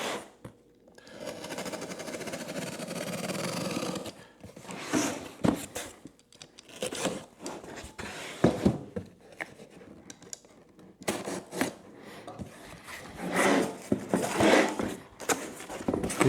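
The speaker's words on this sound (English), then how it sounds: "I just unboxed the brand new windshield." A National Cycle V-Stream motorcycle windscreen for a Kawasaki Versys 650 being unboxed from a heavy-duty cardboard box: close rustling, scraping and tearing of cardboard and packing in irregular bursts with short pauses.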